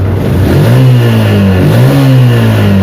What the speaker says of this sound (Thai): เครื่องเงียบมากครับคันนี้เครื่องเงียบดี